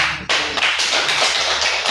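A classroom of students bursts into applause, dense overlapping clapping that starts abruptly and holds steady and loud throughout.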